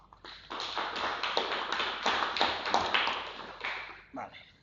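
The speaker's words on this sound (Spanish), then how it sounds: "con un aplaudiment" Short burst of hand clapping from a small group in a classroom setting, dense overlapping claps rising and then tapering off over several seconds, with no talk.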